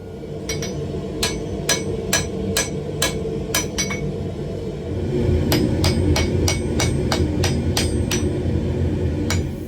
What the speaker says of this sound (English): Now these dies have a 3-inch radius and work great for forging a shallow fuller.